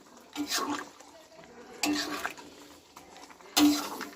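Curry being stirred in a cooking pot, three separate scraping, clattering bursts of a utensil against the pot spaced about 1.5 seconds apart, close and fairly loud, with someone speaking between and over them.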